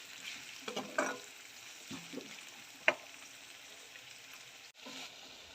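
Onions and curry leaves sautéing in a pan for a radish and dried fish curry: a faint, low sizzle with a few soft stirring scrapes and one sharper clink, no talking.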